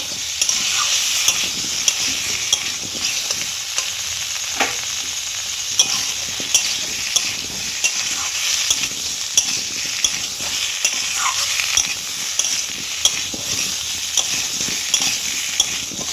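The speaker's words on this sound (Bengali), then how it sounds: "আদা বাটাটা দিয়ে দেবো, ভালো করে কষিয়ে নেব।" Pumpkin and pointed gourd sautéed with ginger paste in a pan, sizzling continuously while a spatula scrapes and taps against the metal in a regular rhythm, close and fairly loud throughout.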